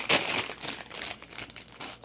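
A plastic bag holding Zyuohger Minipla Wild Tousai King toy model parts crinkles and crackles close up in short, irregular bursts, loudest at the start, with no talking.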